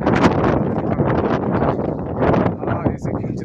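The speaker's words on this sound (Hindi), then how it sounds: "आप देख सकते हैं इतनी हवा चल रही है, शाम का टाइम है" Strong evening wind buffeting the microphone in gusty, rumbling bursts while a person talks over it.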